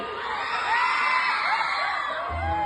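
At a Bihu festival event at Moran Oil Colony, a crowd sends up sustained whistling and cheering, a dense wash of overlapping shrill whistles and shouts held at a steady level throughout.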